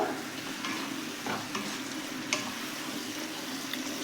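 Fried potatoes stirred and sautéed with ground spices in a hot pan, giving a steady close sizzle with scraping stir strokes throughout.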